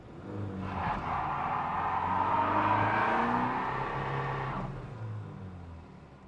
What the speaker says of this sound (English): It will do a burnout.